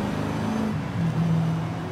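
An Audi in the Forza Horizon 5 racing game drives along on a night cruise, giving a steady low engine drone with a few brief shifts in pitch, holding fairly loud and continuous.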